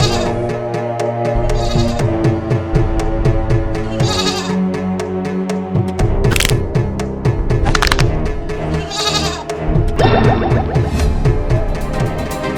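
A goat bleats repeatedly in a dense animated-story soundtrack, its wavering cries layered over music and sound effects, loud and close throughout.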